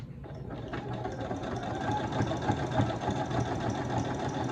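A sewing machine runs steadily as it zigzag-stitches coiled rope into the wall of a Christmas rope bowl, giving a continuous close mechanical whir with a fast rhythmic chatter that holds from start to finish.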